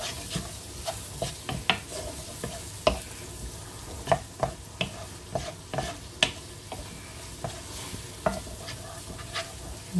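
Tuna macaroni with parmesan being stirred in a pan, with repeated close scraping and clacking strokes of the spoon at an irregular rhythm over a soft sizzle.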